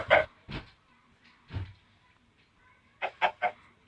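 A video game chicken clucks in short bursts: a few separate clucks, a pause, then a quick run of three, close and clear against quiet.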